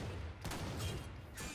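Gunfire bursts from a melee combo in the Warframe game, heard as a few quick loud shots in short clusters against a low-level background, with no talking.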